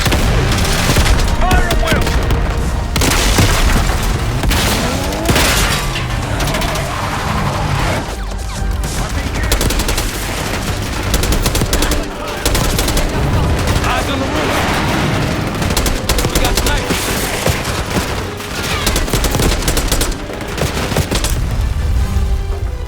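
Gunfire from a Call of Duty Black Ops 6 cutscene, loud and sustained: rapid bursts, heavy booms and crashes run without pause under shouted voices and music.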